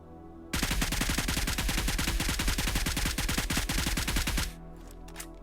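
Rapid automatic gunfire bursts in a battle royale shooter game, a long sustained string of closely spaced shots, loud and up front, stopping abruptly before a brief quieter tail.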